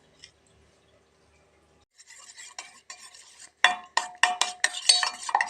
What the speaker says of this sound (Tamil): இப்போ இதை நல்லா கலக்கி விட்டுக்கலாங்க.